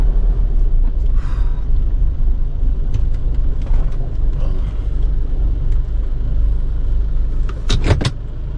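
A truck engine rumbles steadily and close by while it pulls in under a carport, with a low, continuous drone and a brief mechanical clatter near the end.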